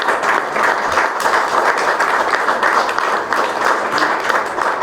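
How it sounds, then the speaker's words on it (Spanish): Warm, dense applause from a theatre audience at a tribute event fills the room evenly for about five seconds, with many hands clapping at once and no speech over it. "Quiero pedir un aplauso para él y para Rocío Fernández."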